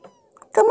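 A cat wrapped inside a blanket burrito gives one short, close, fairly loud meow at the end, after a stretch of near quiet with faint stirring.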